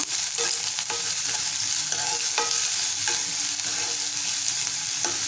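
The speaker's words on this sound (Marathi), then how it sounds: "कढीपत्ता घालूया आणि छान परतून घेऊया" Curry leaves stir-fry in a hot pan for a bitter gourd bhaji, a loud continuous sizzle broken by repeated spatula scrapes and stirs.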